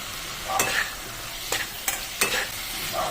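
Raw jackfruit being stir-fried in a masala for echor chingri, an even hiss of frying broken by a few sharp scraping stirs, close and alone.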